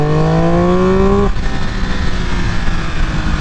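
Triumph Speed Triple 1200 RR motorcycle on its stock exhaust revs hard, pitch climbing steeply toward redline, then the throttle snaps shut and the engine drops back to a rough, burbling idle, loud and close.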